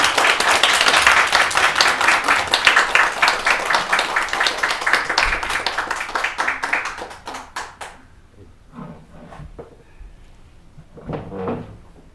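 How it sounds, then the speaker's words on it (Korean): A lecture audience gives a big round of applause to welcome a psychiatrist speaker, loud dense clapping that thins into scattered claps and stops around the two-thirds mark, followed by faint room noise and a brief soft voice. "큰 박수로 감사드립니다."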